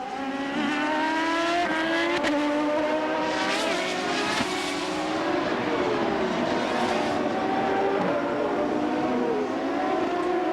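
A CART open-wheel race car from 1996 at Mid-Ohio screams down the pit straight, its engine note rising and falling loud and sustained, with more cars droning behind, no voices.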